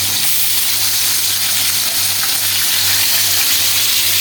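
Large pieces of ribbonfish fry in a pan, a loud, close, continuous sizzle and crackle that holds steady throughout with no voices.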